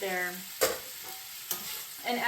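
Onions and meat frying in a pan, a low sizzle broken by three distinct scraping stir strokes, close and moderately loud.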